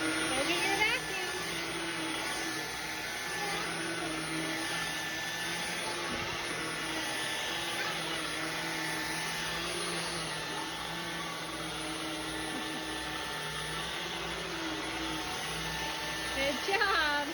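A vacuum cleaner runs in a home, giving a steady whirring drone that holds at the same moderate loudness for the whole stretch, with occasional faint voices underneath.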